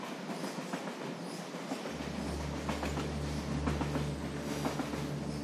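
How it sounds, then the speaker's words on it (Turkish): The Ankara–Kars passenger train, known as the Eastern Express, rumbles along the rails with steady clickety-clack and a deep low drone setting in, heard from inside or close by, with no talk. "Ankara-Kars treni. Bilinen adıyla Doğu Ekspresi."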